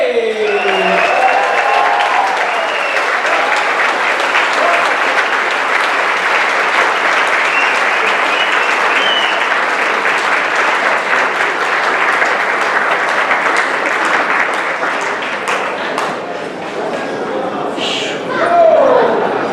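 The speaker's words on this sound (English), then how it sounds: "join me in one last round of applause for the incredible Derek Fay" Sustained audience applause for a speaker at a formal event, a loud, dense wash of many hands clapping continuously for nearly twenty seconds, tapering slightly near the end with faint voices beneath.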